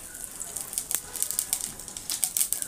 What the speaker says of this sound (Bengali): এবার আমি দিয়ে দেবো জিরে ফোড়ন